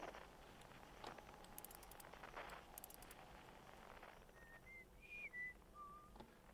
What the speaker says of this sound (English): So whoever's on that planet is whistling.